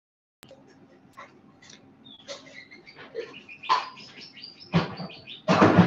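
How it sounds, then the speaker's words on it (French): Short chirps and tweets of birds come one after another, close and fairly clear against a quiet indoor background. The calls build toward the end, with a denser, louder burst at the close. "C'est le retour des oiseaux."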